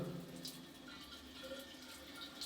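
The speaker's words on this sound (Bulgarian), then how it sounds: "Първото ми пикане в тоалетната." A faint, steady trickle of urine runs into a gym toilet, a soft watery stream heard from close by in a quiet room.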